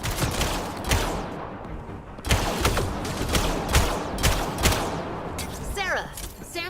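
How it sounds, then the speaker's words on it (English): Rapid gunfire bursts in the sci-fi shooter Mass Effect Andromeda, sharp repeated cracks spread through a busy battle soundscape, with voices and a trailing sweeping effect near the end. "Sarah, shoot them!"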